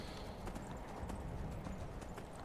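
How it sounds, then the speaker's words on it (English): Horse hooves clip-clop steadily in Skyrim, a fast, even run of dull thuds that carries on without a break against a loud, busy game backdrop, with no talking. "These horses can climb anything, but then get stuck on a tiny ledge."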